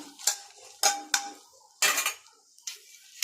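Dried chillies and lentils fry in sesame oil in a pan while a metal spoon stirs them. About five close, loud scraping and clattering strokes come with short gaps between them, and no one speaks.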